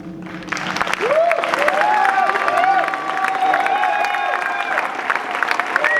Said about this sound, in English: Tout le monde applaudit Hashima